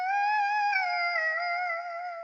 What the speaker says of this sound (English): Then I added 2 vocal chops from Splice. They sound like this without the effects.